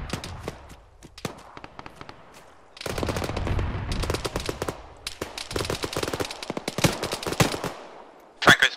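Arma 3 gunfire: scattered single shots, then heavy rapid bursts and volleys from about three seconds on, with some shots nearby and others farther off.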